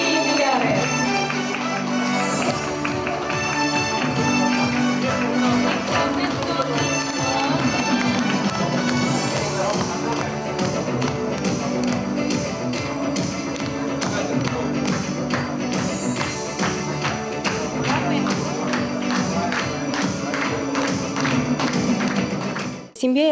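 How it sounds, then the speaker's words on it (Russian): Sustained applause at a medal ceremony for long-married couples, dense continuous clapping from a crowd filling the room with a busy patter, with music or voices mixed underneath throughout. "Аплодисменты, дорогие друзья!"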